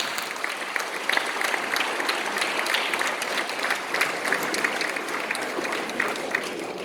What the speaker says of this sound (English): I would like everyone to give a big hand to all four houses before we start